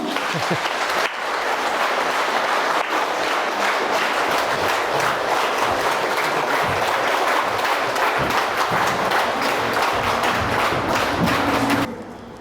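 Large audience in Chongqing giving sustained, loud applause to welcome Khenpo Sodargye onto the stage, a thick unbroken wash of clapping for about eleven seconds that stops abruptly near the end.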